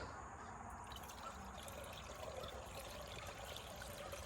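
A quiet, continuous trickle of coolant pouring into the radiator overflow tank of a 2006 Land Rover Range Rover, steady throughout with no voices.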